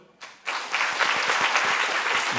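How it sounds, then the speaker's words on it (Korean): Audience applause at a church dedication ceremony breaks out after a brief quiet start, quickly swelling into a steady, dense wash of clapping from a sizable crowd that holds loud and even to the end. "여러분 큰 격려와 응원의 박수 부탁드리겠습니다"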